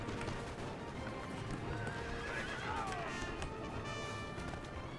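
Horses neighing and whinnying amid galloping hoof clip-clop during a cavalry battle in the Napoleon Total War video game, set against a dense, constant roar of battlefield noise.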